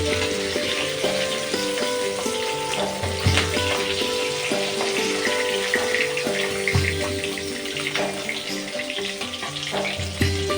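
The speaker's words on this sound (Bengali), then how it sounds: "মাছটা আমার ভাজা ভাজা হয়ে গেছে" Rui fish frying in hot oil gives off a loud, continuous sizzle with crackling bursts throughout, and no one speaks.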